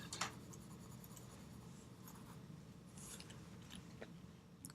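Graphite pencil shading on paper, a soft continuous scratchy rasp of strokes with faint quicker flicks, very quiet and close with no talking.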